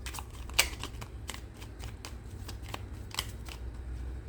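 Angel healing cards being shuffled by hand, a close run of crisp riffling and flicking with short regular bursts and one sharper slap near the start, with no voice.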